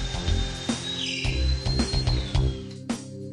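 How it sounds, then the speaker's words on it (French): A power drill boring two holes into a wooden frame upright with a Wolfcraft Undercover Jig, a steady high whine over several close, rhythmic knocks and grinding bursts. "percez d'abord 2 trous sur l'un des montants du cadre"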